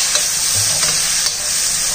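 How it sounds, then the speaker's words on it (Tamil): Two chopped medium tomatoes sauté in a pan of lightly fried onions, a loud, steady sizzle with soft stirring scrapes throughout, close up and without talk. "இதை நல்லா வதக்கிடுவோம்"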